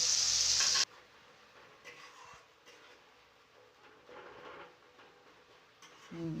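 Chopped tomatoes and a spice paste of onion, ginger, garlic and dried chilli sizzle in hot oil, a loud burst at the start settling into a quieter steady frying hiss with occasional scraping stirs.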